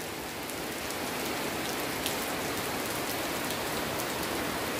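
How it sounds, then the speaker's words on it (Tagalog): Steady rain pours down outdoors in a garden, a dense, even hiss of drops on surfaces that holds constant throughout with no voices. "Ay, inabot na ng ulan."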